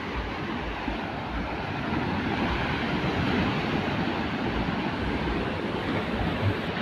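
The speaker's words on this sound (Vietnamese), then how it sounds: "Rồi sóng gió như thế này thì người ta không có đi biển." Rough sea waves and strong wind on a Vietnamese coast at night roar in a dense, continuous wash, loud and steady, with gusts buffeting the microphone and no voices.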